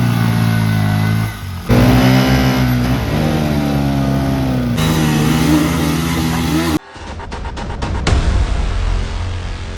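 Motorcycle engines revving hard during a bike tug-of-war between a Bajaj Pulsar 150 and an NS 200, loud sustained high-revving drone with rising and falling pitch, then a rougher, choppier engine roar near the end.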